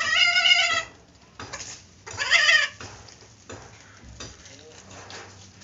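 A cat eats from a bowl, letting out two loud, close meows between soft scraping and chewing noises.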